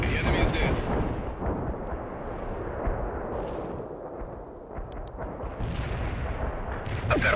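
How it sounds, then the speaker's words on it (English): Heavy artillery strike in World in Conflict, a dense roaring barrage of booming impacts and rumbling explosions that runs continuously and loudly throughout, with faint radio chatter mixed in. "Heavy artillery strike fired."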